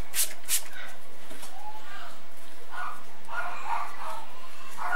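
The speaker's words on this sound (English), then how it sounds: "Can you hear them barking dogs?" A few dogs bark and yip at a distance, scattered short calls over a quiet background with occasional faint noises.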